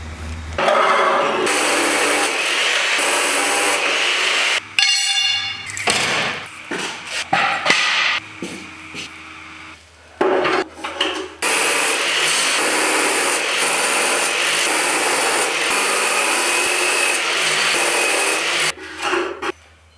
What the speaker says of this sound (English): while Joe is grinding on that